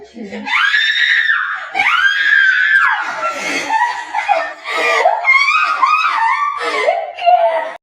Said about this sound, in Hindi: देखो इतनी से चीज पे चीखे लगा रही।